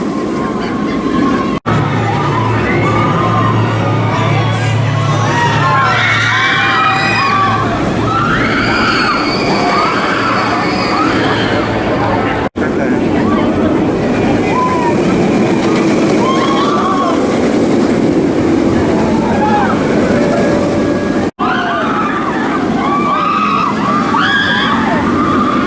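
The Jurassic World Velocicoaster at Universal Orlando, heard from off the ride, gives a loud, rumbling roar of the passing train with scattered rider shrieks, broken into several abrupt segments.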